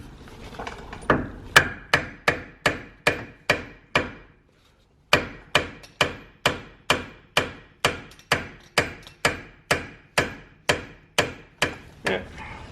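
A hammer taps a rear brake part back into place on a 2011-2013 Hyundai Sonata Hybrid, sharp metallic strikes in a steady rhythm, about five, a short pause, then around fourteen more, close and clear with no talk.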